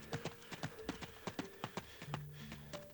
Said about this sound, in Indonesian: aku dengar banyak suara derap kaki yang berlari ke arahku